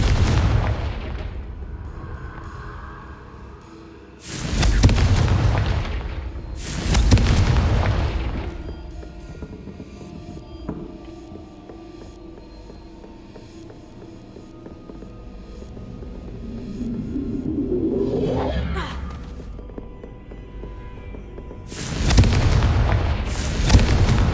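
Confringo blasting spells set off repeated explosions in the video game Hogwarts Legacy: deep, booming blasts in clusters at the start and end, with a rising whoosh and rumbling debris between them.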